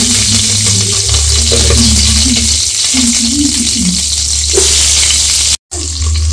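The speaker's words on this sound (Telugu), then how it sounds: "ఫస్ట్ ఇవి అయితే ఫ్రై చేసేస్తాను." Whole masala spices fry in a pan with a steady sizzling hiss over a low, continuous rumble, close and loud, with a brief dropout of sound near the end.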